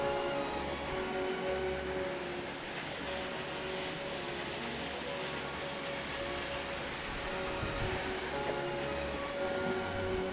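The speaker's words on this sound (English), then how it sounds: "Waterfall number 4, Double Falls." Double Falls in Silver Falls State Park, Oregon, gives a steady broadband rush of falling water, constant and fairly distant, with no voices.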